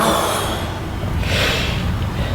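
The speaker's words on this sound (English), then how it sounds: "breathing out" A woman breathes out slowly and audibly during a hip stretch exercise, a soft close airy exhale that lasts the whole moment, with no talking.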